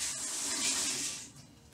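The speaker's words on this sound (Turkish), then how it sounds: "Şöyle bir elimi yıkayım." Tap water runs steadily over hands being washed at a home sink, a soft continuous hiss and spatter that fades slightly toward the end.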